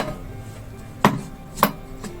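Two sharp knife chops on a board, about half a second apart, with a faint third tap near the end, as sea coconut is cut into pieces for a yellow conch soup.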